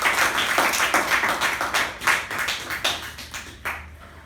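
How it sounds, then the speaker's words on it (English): A small meeting group claps for the speakers, starting as a dense burst and thinning into a few scattered, separate claps that die away near the end. "Can we have a huge round of applause for all the 4 road takers?"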